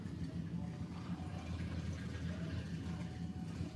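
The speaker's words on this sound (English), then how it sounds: "There's the little surge of water." A small surge of water gurgling through a drain, a steady close rush with low churning and no voices.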